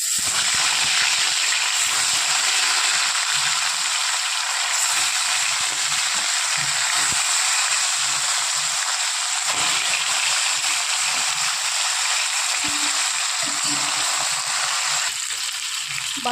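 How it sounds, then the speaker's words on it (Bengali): Pieces of rohu fish fry in oil, a dense steady hiss of sizzling fat that runs unbroken and fairly loud throughout, with faint clinks beneath. "ওই তেলেই বাদবাকি মাছগুলো ভেজে নেব।"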